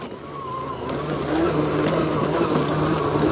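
A DeWalt 2x18V DCMWSP156 cordless self-propelled lawn mower rolls along with a steady motor hum and a thin tonal whine that rises slightly, close by and fairly loud, with no talking.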